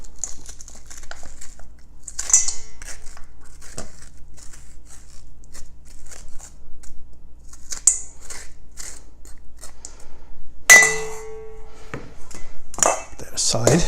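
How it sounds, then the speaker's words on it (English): A spoon scrapes the seeds out of halved delicata squash in intermittent soft scrapes and crunchy rasps, with a sharper burst of scraping near the end while someone talks. "scoop the seeds out."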